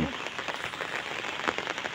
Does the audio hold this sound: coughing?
no